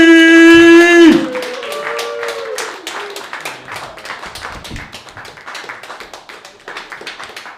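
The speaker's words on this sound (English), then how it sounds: "Give him a loud round of applause." Small open mic stand-up comedy audience clapping for a comedian: a loud shouted introduction gives way to a run of sharp, fairly close hand claps that gradually thin out and fade.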